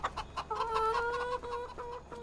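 Chickens clucking on a farm in Farming Simulator 25, a cluster of short clucks and drawn-out tonal calls close by, fairly quiet and without talk.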